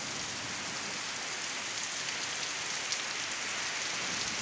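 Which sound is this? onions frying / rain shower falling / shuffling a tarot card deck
rain shower falling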